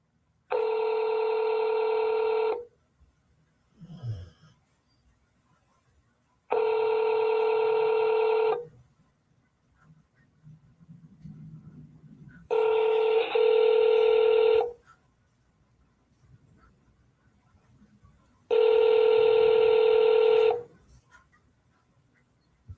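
Four long, evenly spaced telephone keypad tones, each held about two seconds with quiet gaps between, sound loud and clear over a call to an automated answering system.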